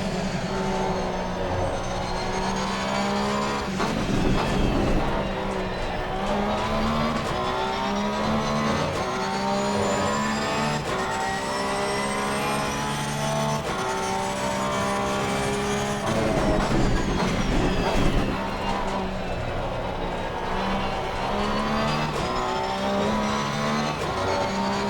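Race cars in Assetto Corsa Competizione lap the Nurburgring in a multiplayer sprint that includes a 2021 Porsche. Several engines drone and rev together without a break, with rising and falling pitch through gear changes.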